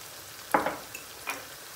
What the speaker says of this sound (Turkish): Soğanlar yanmaya başladı.